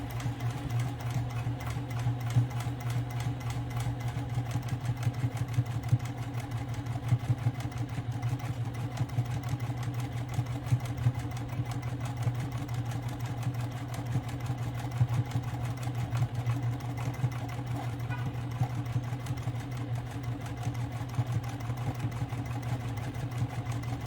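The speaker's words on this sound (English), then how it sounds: "Let me just stitch one more time." A sewing machine runs steadily as it stitches a shoulder bag, with a constant motor hum and a fast, even needle rhythm. It is close and alone, with no talk.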